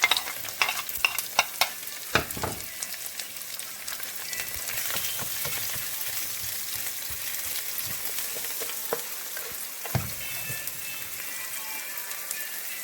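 Garlic and sweet pepper fry in a pan while being stirred, a steady close sizzle broken by sharp scraping and clattering strokes, with a few louder knocks early and near the end.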